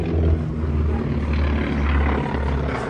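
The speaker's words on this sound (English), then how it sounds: "Then you get the characteristic helicopter sound." Hughes TH55 helicopter with a Lycoming engine running at an airshow, a loud steady throb of rotor and engine heard up close without pause.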